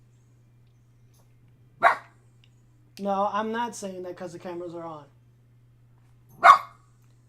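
A dog barks twice, single sharp barks spaced several seconds apart, with a person talking between them indoors.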